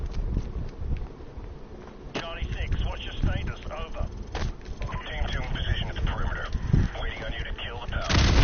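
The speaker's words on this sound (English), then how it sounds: "Big ol' explosions." Loud, repeated booming blasts and gunfire-like bursts from Call of Duty: Modern Warfare Remastered, with a voice talking over the action throughout.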